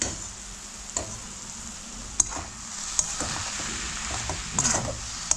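Cabbage stirred in a pan over a very low gas flame, with a soft steady sizzle and scattered scraping clicks from the spoon through the few seconds.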